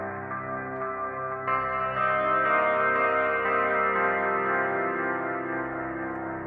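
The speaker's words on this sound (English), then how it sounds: "it's going through the effects, the distortion, reverb, and" Sustained electric guitar chords drenched in distortion, with a washy reverb tail and repeating delay echoes, steady and fairly loud with no voices.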